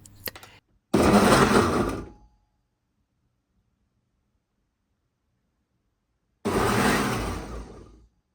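A Ninja soup maker and blender chops onion and garlic in loud, harsh bursts, one about a second long at the start and another near the end, with silence between.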